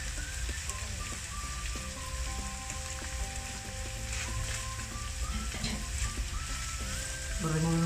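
A sofrito of carrot and green pepper frying in a pan for beef lasagna makes a steady close crackling sizzle like light rain, with a few stirring scrapes and a faint voice in the background.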